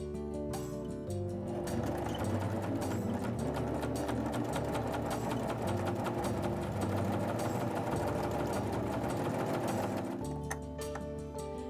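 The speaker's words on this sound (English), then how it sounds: "Then place your fabric into this groove and start stitching." Baby Lock sewing machine with a double fold bias binder attachment stitching fabric, a fast steady mechanical whir with rapid needle clatter, starting after a short pause and stopping near the end, close and alone.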